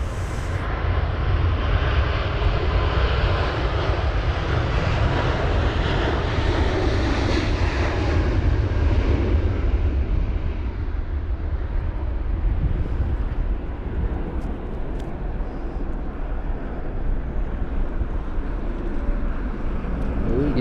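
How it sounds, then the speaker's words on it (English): An Air Canada Boeing 777-300 airliner at Heathrow during a storm roars loudly and continuously for about twenty seconds, with the engine pitch sinking as it passes and gusting wind noise beneath. "There's the 777-300 via Canada"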